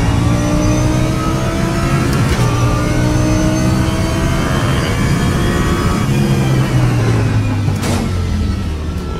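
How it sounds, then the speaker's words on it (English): An Audi race car's engine at Brands Hatch in the Raceroom sim racing game, revving loudly and steadily with rising and falling pitch sweeps as gears change, continuous throughout with no talk. "I'm driving the Audi as well"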